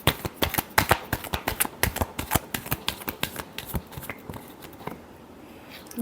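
Tarot cards riffle and snap in a quick run of sharp, close flutters, slowing and thinning out over the last second or two with no voices.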